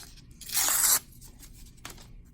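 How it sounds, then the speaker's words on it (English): White paper rips in one short, sharp tear lasting about half a second, close and alone, followed by a faint rustle. "you can literally just rip a little bit of paper"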